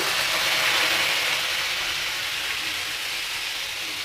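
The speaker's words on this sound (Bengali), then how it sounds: "এবার আমি চিংড়ি মাছটাও ভেজে নেব" Shrimp fry in hot oil in a wok, making a loud, continuous, close hiss that eases slightly toward the end, with no talking.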